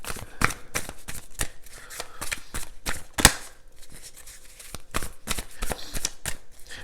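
Light Seers tarot cards being shuffled by hand in quick, close riffling bursts with short pauses between them, and almost no talking.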